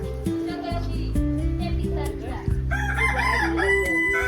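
Village hens and a rooster in a Konkan yard, with repeated crows and clucks layered over a steady low background and faint distant voices.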